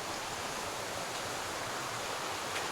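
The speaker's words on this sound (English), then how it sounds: "you hear the water, I guess, as it dips into some deep holes" Creek water in a wooded hollow spills into deep holes, a steady soft rushing wash with a faint low burble, distant and quiet, with no voices.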